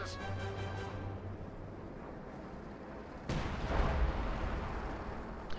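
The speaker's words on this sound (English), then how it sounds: "Howitzer is firing on the victory point, I guess." Howitzer artillery firing in a multiplayer strategy video game, a single sudden heavy boom with rumbling tail partway through, over quieter game ambience and a fading musical tone.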